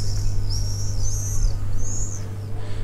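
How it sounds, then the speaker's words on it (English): Birds calling at a marsh with nesting boxes, a few high, drawn-out whistled calls repeating at moderate distance over a steady low hum and wind-like background noise. "I'm hearing loads of birds up here."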